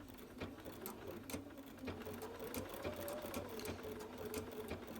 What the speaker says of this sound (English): So to start off, I just position my needle in the right place and then off I go.